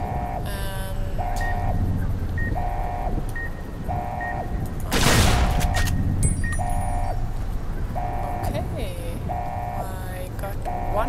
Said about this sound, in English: horrible beeping hallway